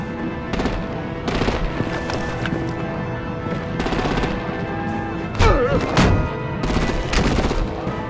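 Heavy artillery and rapid gunfire in Batman: The Enemy Within, loud sustained bursts of automatic fire and booming impacts piling up over several seconds, with a sharp whooshing strike partway through.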